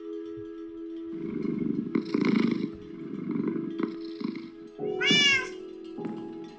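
A cat in the Minecraft video game meows in a few short, clear calls, with one loud, rising meow standing out near the end over a steady background hum.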